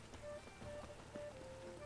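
Steady rain falling in The Witcher 3, a soft continuous patter on surfaces with faint tonal game ambience beneath, low and even throughout.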